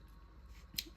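Scissors trimming threads of a sewn buttonhole on a Singer 4423, a single faint close snip in a quiet room.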